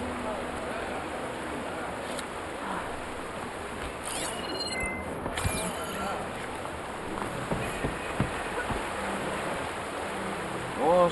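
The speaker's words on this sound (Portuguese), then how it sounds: "é um ambiente de cachoeira, rios" Steady rushing water from a waterfall and flowing rivers in the game Horizon Forbidden West, a continuous even wash, with a few brief faint voices or tones over it.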